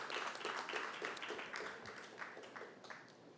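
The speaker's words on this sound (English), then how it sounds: "So give a round of applause, Carla." Audience applause at a conference session on responding to loss and damage, a dense patter of clapping that fades slightly toward the end, fairly quiet and distant.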